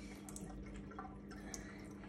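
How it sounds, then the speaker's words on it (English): Dirty soaking water being poured off nuts, a faint, continuous trickle with small drips and splashes, quiet and close, with no talking. "What you want to do is you want to pour that water out, so the kind of dirty water,"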